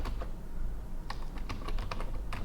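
Typing on a computer keyboard: a quick, uneven patter of close key clicks over a low background hum, with no talk.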